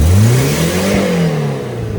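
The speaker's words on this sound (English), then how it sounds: "Sounds like a car now, instead of whatever it sounded like before." A car engine revs up and then eases back, one loud surge that gradually winds down to a lower idle, close by and alone without talk.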